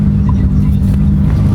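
A modified BMW M4 running off its E85 fuel, with a misfire fault, idles and revs with a loud, low, throbbing engine drone that stays steady and close for the whole short stretch.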